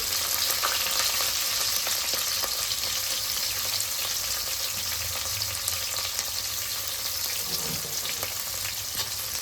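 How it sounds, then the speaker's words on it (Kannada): Onions and green chillies fry steadily in oil for mutton biryani, a constant close crackling sizzle with faint stirring, no voices. "ಇವಾಗ ಈರುಳ್ಳಿ ಸ್ವಲ್ಪ ಕಲರ್ ಚೇಂಜ್ ಆಗೋ ತನಕ ರೋಸ್ಟ್ ಮಾಡ್ಕೋಬೇಕು"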